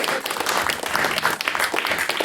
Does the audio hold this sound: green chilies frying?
no